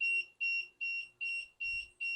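An Arduino Uno RFID home security buzzer sounds a shrill, steady alarm in six evenly spaced high-pitched beeps, loud and close with no talk.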